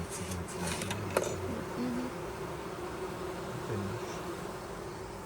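Honeybees buzz up close at a hive, a continuous droning hum with occasional louder passes, with faint clicks and rustles in the background.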